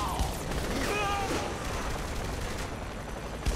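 Gunfire crackles in Saints Row: The Third as a brief burst of shots sounds near the start, then continues as a faint, busy wash of game noise, with occasional speech-like chatter mixed in.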